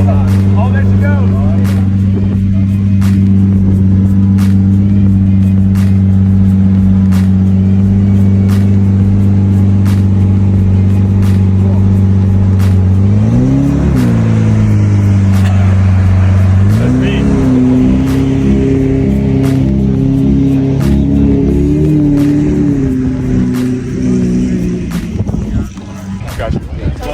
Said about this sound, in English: I'm gonna ask him to rev it one more time.